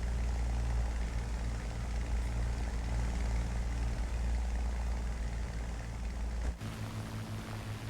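Propeller airplane engine in a flight simulator game, a low, steady drone under rising speed after gear retraction, fairly loud, with a sudden shift in tone near the end.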